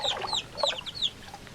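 Rooster calls in a Quechua-language film, a few short bright clucking crows repeated over about a second, fairly near, with no talking.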